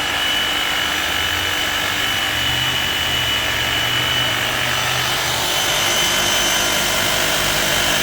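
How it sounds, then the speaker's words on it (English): Enerpac 25-ton H-frame hydraulic press with a freshly rebuilt cylinder, its ram lowering over a long stroke, a steady loud rushing hum with a low tone running continuously. "They got this release valve here. Okay, and now it's shut. It'll go down."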